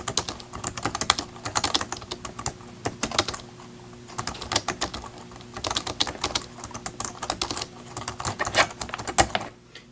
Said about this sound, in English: let's see the typing on here